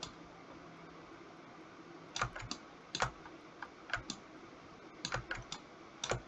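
Computer keyboard keys pressed during UV mapping work, a few clustered clicks and taps in short bursts, close and fairly quiet over a steady low room hum.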